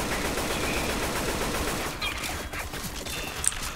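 Gunfire in the zombie shooter Left 4 Dead 2, a dense continuous crackle of shots filling the clip, moderately loud and fairly steady, with a sharper shot near the end.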